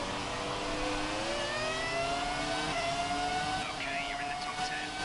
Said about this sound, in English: I absolutely love the V10 F1 cars. My absolute favorite. They sound so good.